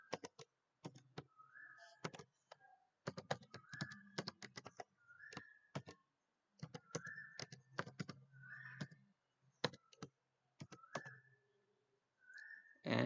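Close, crisp computer keyboard keystrokes come in irregular bursts while a C program is typed, with short gaps between the runs and a faint whistling tone recurring in the background.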